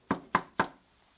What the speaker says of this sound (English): He went to the little pig's house and knocked on the door.